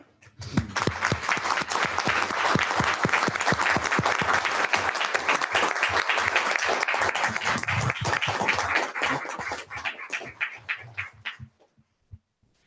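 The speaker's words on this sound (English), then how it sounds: "I think probably one more round of applause for Chief." A round of applause fills a city council meeting room after a council session tribute to the police chief, with steady dense clapping from the attendees that thins out and trails off into a few scattered claps near the end.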